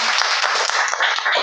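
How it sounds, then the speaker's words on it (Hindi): Brief burst of audience clapping at a club meeting, a dense patter of hands lasting about a second and a half, fairly loud and close, with no clear talk over it. "आपने इसलिए तालियां बजा लें."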